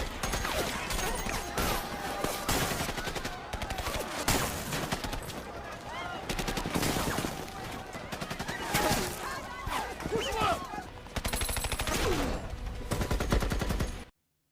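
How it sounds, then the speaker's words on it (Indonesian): Rapid bursts of gunfire crack and rattle almost nonstop in a film shootout with drug cartel members, mixed with crashes and shouting voices in a loud, chaotic firefight. "tembak-menembak pun tidak bisa dihindarkan"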